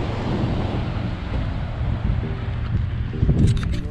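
Constant rushing water and wind noise from the sea all around at Dhanushkodi, India's southern tip, with a faint thud and a short whine near the end.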